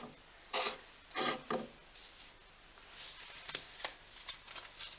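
An Archangel Michael oracle card deck is shuffled by hand, soft papery riffles and rubs in short bursts, close and quiet, followed by lighter flicks as cards are picked out.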